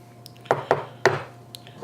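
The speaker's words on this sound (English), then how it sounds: "We want to stir all this in together so it all gets coated good" Vegetarian jambalaya ingredients with rice and black-eyed peas being stirred in a pot: a few sharp metallic clinks of a utensil against the pot, spaced irregularly, close and fairly loud over a low hum.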